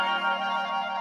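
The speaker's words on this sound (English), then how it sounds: "That's the sound of us magically transforming our smoothie bowls into 2 new decadent flavors." A shimmering magical transformation effect from a smoothie bowl advertisement, a steady sustained tone layered with echo and effects processing, moderately loud and unbroken for about a second with no voices.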